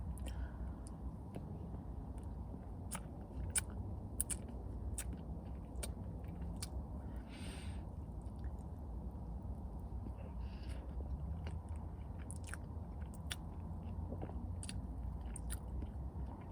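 A slice of pineapple upside-down cheesecake with whipped cream and cherry is chewed close up, faint soft mouth sounds and small clicks scattered over a steady low background hum.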